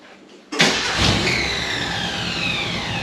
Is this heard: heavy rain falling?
no